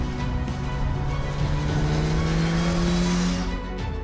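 A Suzuki GSX-S1000GT sport-touring motorcycle's large-displacement engine hums steadily and loudly throughout, holding a smooth tone that rises slightly in pitch before easing off near the end.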